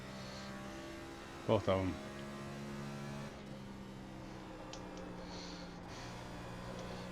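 Next Gen race car engine in iRacing at Rockingham holds a steady, droning tone at full throttle throughout, with a brief louder burst early on and someone talking over it.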